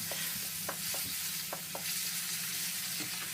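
Stir-fried pumpkin in a pan sizzles steadily as a little water goes in, with a spatula clicking and scraping at irregular intervals in a close, quiet kitchen.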